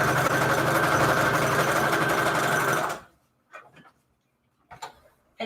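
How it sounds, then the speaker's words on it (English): A sewing machine runs a fast, steady stitch through fabric onto a lace-trimmed manila tag for about three seconds, then stops, leaving a few soft clicks and handling noises. "I think I'm going to lay down a stitch down here in the middle for this fabric"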